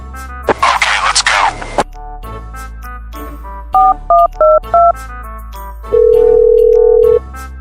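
A telephone being dialed: four short two-tone beeps in quick succession, then a long steady tone, after a brief rustling noise.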